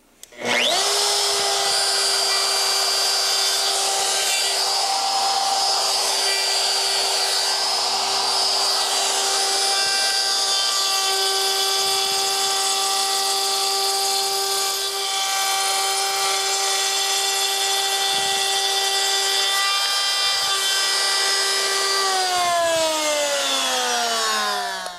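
A power saw whines steadily for about twenty-two seconds while cutting the final pass of a slot in wood, loud and close with a constant tone, then spins down at the end.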